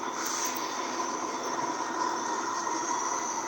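A GE or EMD SD90 locomotive in the train simulator Trainz: A New Era, giving a steady, moderately quiet engine rumble and rolling rail noise with a faint high whine throughout.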